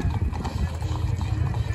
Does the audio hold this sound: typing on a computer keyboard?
no